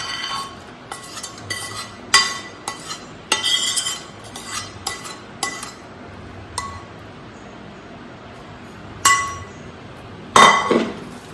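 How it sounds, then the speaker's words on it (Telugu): A spoon clinks and scrapes against a vessel while tamarind pulp is mixed into bitter gourd pickle, giving a run of sharp, irregular taps with quiet pauses between and no talking. "ఇప్పుడు మనం ఈ చింతపండు పులుసుని దీనిలోకి కలిపేద్దాం కాకరకాయలో"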